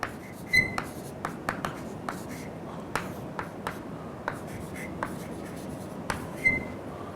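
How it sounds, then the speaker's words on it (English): Writing on a board during a lecture: faint, close taps and short scratchy strokes come in an irregular sequence against a quiet room. "Let me write this."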